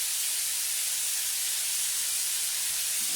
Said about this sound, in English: I'm just going to leave this to just fry up for a while